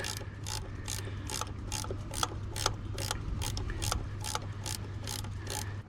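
Ratchet socket wrench working on a Range Rover Evoque during a timing belt and water pump job, giving a rapid, regular series of sharp clicking bursts, about fifteen strokes close up over a low hum.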